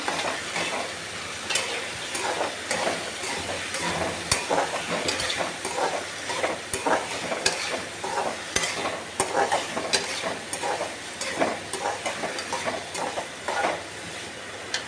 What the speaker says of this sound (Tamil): இது நல்லா வதங்கணுங்க